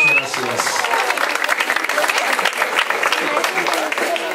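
Sustained applause from an audience at an outdoor civic event marking a street paving project, dense and loud throughout with a brief voice at the start.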